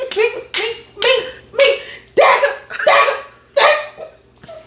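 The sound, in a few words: dog barking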